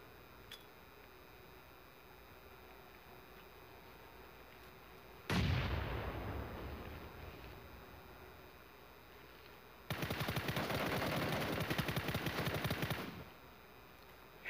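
Gunfire in the video game PUBG on the Miramar map: a single loud booming shot with a long decaying echo, then a sustained burst of rapid automatic fire lasting a few seconds, heard close over quiet game ambience.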